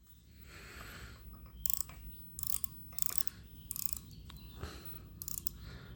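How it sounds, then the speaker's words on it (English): A metal lathe fitted with an Algra tool post takes a light finishing cut. The cut sounds like quiet mechanical whirring broken by several sharp, bright scraping bursts spaced through the stretch, with no talking. "we're just coming up on our finishing cut now"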